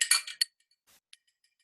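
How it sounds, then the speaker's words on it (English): A spoon clinks quickly against a glass while stirring liquid for a lettuce experiment, a short burst of bright taps followed by a few faint isolated ticks, close and alone. "Stir it up."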